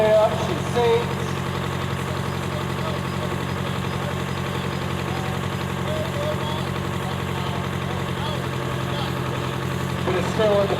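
A 1950s–60s Oliver diesel antique tractor runs steadily at a tractor parade, its engine a constant low, throbbing idle with a faint knock, close and loud throughout.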